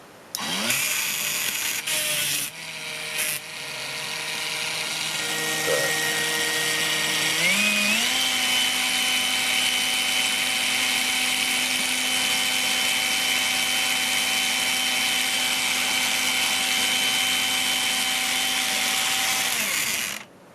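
A Polisher Nano cordless angle grinder, just repaired after burnt-out transistors and a faulty Schottky diode, spins up with a loud steady whine that climbs in pitch and then holds a constant high motor drone, close up, after a few clicks.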